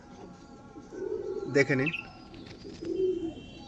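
An Allahabadi chiniya pigeon gives a few soft coos close by as it is released, with someone talking over it.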